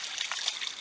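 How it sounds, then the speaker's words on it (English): Water trickles out of the hull of a wooden canoe, a Kuna ulu in the San Blas Islands of Panama, with a close, continuous bright splashing dribble and no voices. "it's lots of water coming out."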